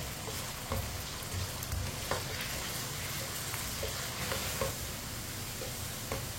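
Potatoes fry in a pan while a spoon stirs them, giving a steady, fairly quiet sizzle broken by soft scraping and clinking strokes, with no voices.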